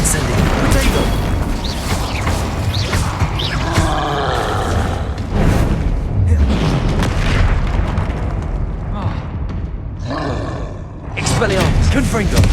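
Spell-casting in the video game Hogwarts Legacy, with the Incendio fire spell among a run of loud booming blasts, whooshes and bursts that continue without pause through a chaotic combat sequence.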